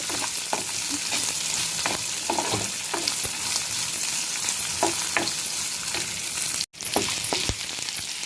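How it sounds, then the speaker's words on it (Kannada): Onions, garlic and curry leaves fry steadily in a sturdy pan for a brinjal palya, a dense continuous crackling sizzle with occasional louder pops and stirring scrapes, close and loud throughout with one brief dropout near the end. "ಈರುಳ್ಳಿನ ಒಂದು ಸ್ವಲ್ಪ ಚೆನ್ನಾಗಿ ಮಾಗಿಸ್ಕೊಳ್ತೀನಿ"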